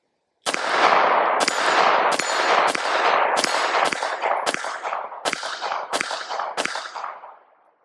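Palmetto State Armory Dagger Micro 9mm pistol fired at a steel target, about ten sharp, loud shots in a steady string with ringing metallic hits and no talk.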